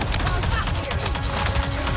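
Rapid, continuous gunfire in the video game Avatar: Frontiers of Pandora, with dense overlapping shots hitting the player, loud and close throughout, under game sounds.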